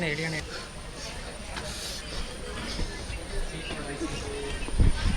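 Steady rumble and hiss of a train arriving at a station, with a constant high whine overhead and a louder thump near the end.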